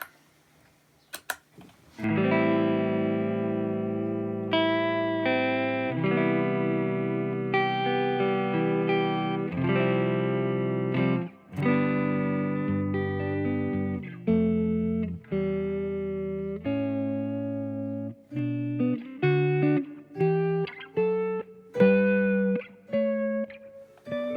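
An electric guitar runs through a slow vibrato preset with spring reverb on a pedalboard, playing sustained chords and single notes that waver gently and ring out, with phrases separated by brief pauses and no voices.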